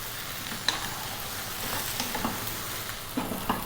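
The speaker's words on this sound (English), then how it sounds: "we're going to go for another sort of 4 to 5 minutes frying this around" Potatoes sizzle and crackle steadily in a hot pan, with occasional scrapes and knocks of stirring, close and fairly quiet.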